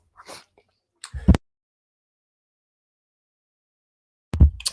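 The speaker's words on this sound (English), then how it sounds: "I've been sneezing for 2 days" A person sneezes, short sharp bursts near the mic, the last two loud after a quiet breathy lead-in, separated by silence.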